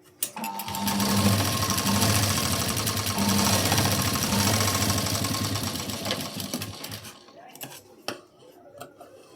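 A sewing machine stitches a second line half an inch beside a blouse tuck, running loud and close for about six seconds before stopping, followed by light handling clicks.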